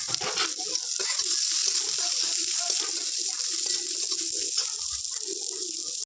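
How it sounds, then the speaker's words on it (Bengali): Fried brinjal, potato and neem leaves tipped into a wok and stirred together, giving a steady, bright sizzling hiss that runs unbroken from start to finish with faint scraping underneath. "আমি এইগুলো সব কড়াইয়ে ঢেলে নিয়ে মিক্স করে নেবো"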